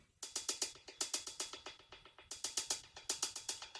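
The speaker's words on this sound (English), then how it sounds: "I added a hi-hat." Crisp hi-hat ticks repeat in a steady, fast rhythm over faint chill house music, bright and sharp, with no one talking.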